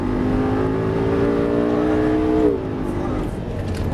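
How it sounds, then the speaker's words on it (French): A Lamborghini LP 560-2 accelerates at full throttle on a circuit, its engine note rising loud and close before easing off as the driver lifts, with a person talking over the engine. "gaz à fond."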